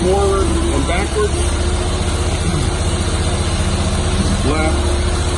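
A Carlton stump grinder's engine running steadily, a loud, close mechanical drone with some pitch shifts as it works, while someone talks over it.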